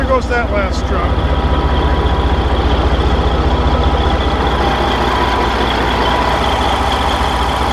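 A truck engine rumbles loudly and steadily close by, a deep continuous drone that holds nearly level throughout.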